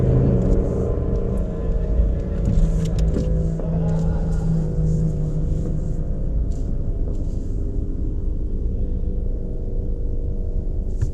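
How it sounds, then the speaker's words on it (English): A Revo Stage 2 tuned car sits at the line of a quarter-mile drag strip, its engine droning and revving through a burnout. The noise is a continuous, dense, roaring rumble with some faint voices mixed in. "coming up to the burnout for my 5th run"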